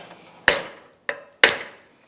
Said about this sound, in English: Now, to finish it off, we're going to peen it in at least 2 areas.